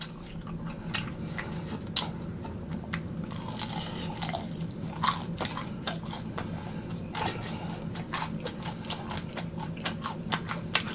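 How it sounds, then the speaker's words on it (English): Crunchy fried Chinese takeout chicken being bitten and chewed up close, with a steady run of crisp crackling crunches and bites over about eleven seconds and no talking. "Chicken good and crunchy."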